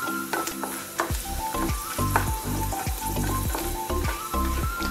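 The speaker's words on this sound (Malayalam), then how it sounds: "ചെറിയ തീയിൽ നമ്മൾ നെയ്യിൽ വറുത്തെടുക്കുക." Cashews and raisins fry in ghee over a low flame, giving a loud, steady sizzle with frequent bubbling crackles and spatters throughout, and no voices.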